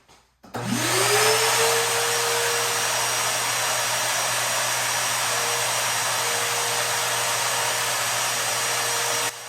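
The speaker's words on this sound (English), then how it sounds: "So the sander was really easy to use." A DeWalt DCE800B cordless drywall sander switches on and runs with a loud, steady motor whine and airy rush. The pitch climbs quickly as it spins up, then holds constant for about nine seconds before cutting off.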